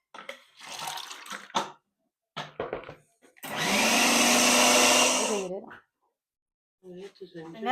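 A kitchen blender grinds soaked chana dal with added water in one loud burst of a few seconds, its whining motor rising and then cutting off, with someone talking before and after.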